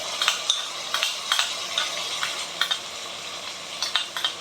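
Fried rice sizzles in a pan as sauces of chili, tomato, soy and vinegar are mixed in, with soft steady frying hiss and repeated sharp metal spatula scrapes and taps in an uneven rhythm.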